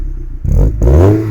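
Mazda MX-5 front-mounted engine revving, a loud close rising growl that surges twice in quick succession and holds a strong rumble.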